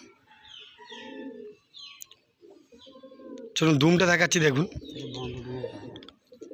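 Pigeons coo softly among scattered bird chirps while a person speaks nearby, with a louder burst of voice partway through.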